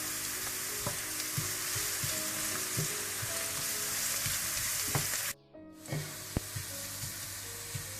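Onions frying in desi ghee for degi chicken biryani give off a dense, steady hiss and sizzle with soft stirring knocks, close and even, briefly cutting out for a moment before resuming, with no voices.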